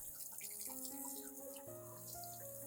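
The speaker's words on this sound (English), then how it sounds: "First, wash the eggshells thoroughly under clean running water." Eggshells are washed under a running kitchen tap, with a steady faint stream of water and light clinking of shell as they are rinsed.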